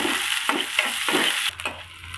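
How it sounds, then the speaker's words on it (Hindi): Finely chopped onions frying in hot oil, with a steady broadband sizzle and several scraping stirs at a regular pace; the sizzle drops off sharply partway through, leaving a quieter hiss with a couple more stirs. "हम इसमें डालेंगे प्याज जो हमने बारीक काट के रखा था। इसको अच्छे से चलाएंगे।"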